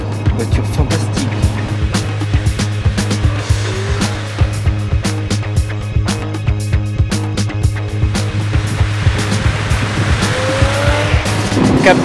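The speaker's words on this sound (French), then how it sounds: "6 litres, c'est énorme. Gros, gros moteur V12." Heard from inside the cabin, the 6-litre V12 of an Aston Martin Rapide drives along with a steady low engine drone, loud and close, accompanied by rhythmic tapping road noise throughout.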